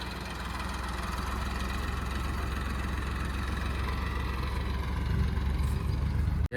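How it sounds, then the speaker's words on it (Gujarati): A loaded farm tractor's diesel engine runs steadily as it pulls away in a village, a continuous close, loud throbbing chug that swells slightly toward the end. "ટ્રેક્ટરનો પેલો ફેરો ભરાઈને જાય છે."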